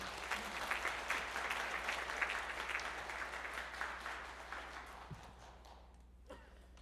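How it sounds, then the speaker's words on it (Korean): A church congregation claps to welcome the pastor before the sermon at a Sunday daytime worship service, with fairly quiet, steady applause from many hands that slowly fades over several seconds. "우리 목사님 박수로 환영해 드립시다"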